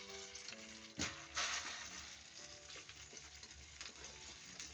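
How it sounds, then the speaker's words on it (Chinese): Bread slices fry in melted butter in a pan over low heat, a soft continuous sizzle with a couple of louder bursts, under light background music. "锅开小火，融化1块黄油， 放入面包片"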